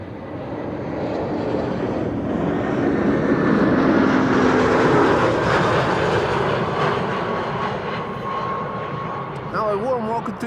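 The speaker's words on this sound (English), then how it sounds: "Air Arabia Morocco arriving from Tangier, which is in Morocco in the north of Africa. It's an A320." Air Arabia Morocco Airbus A320 arriving at Amsterdam Schiphol on a frosty, sunny day, a loud, steady jet engine roar with a rising whine that holds throughout, close and continuous, with brief talk near the end.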